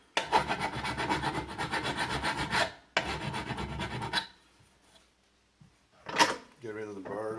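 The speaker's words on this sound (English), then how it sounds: "Take a file." A hand file rasps burrs off a freshly drilled hole in a tripod mount, two long runs of close, steady strokes, then a pause and one short final scrape.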